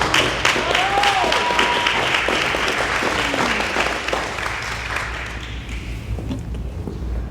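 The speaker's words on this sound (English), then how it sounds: "Let's give her one more round of applause" Applause from the audience at a virtual youth awards fundraising gala, steady clapping that holds broadly for several seconds then thins and fades toward the end, with faint voices mixed in.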